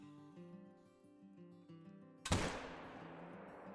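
A single 7mm Regent rifle shot at a shooting range cracks sharply after a stretch of faint low tones and leaves a short decaying echo. No one talks.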